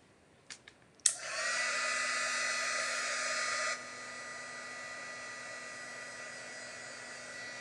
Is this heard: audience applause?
no